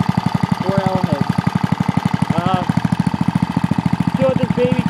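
A 1960s Briggs and Stratton flathead small engine of about 10 hp, started after five years, runs with a loud, rapid, steady chugging pulse, with a few brief whining tones sliding over the throbbing exhaust beat.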